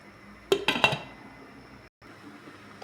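Metal lid set back onto a pot of simmering shrimp sinigang with mixed vegetables, giving three quick clinking clanks close by, followed by a low steady kitchen hum.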